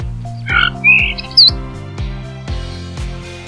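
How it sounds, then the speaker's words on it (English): A starling gives a few short, bright chirps and whistles in quick succession, heard over a plucked, rhythmic musical backing. "Starling."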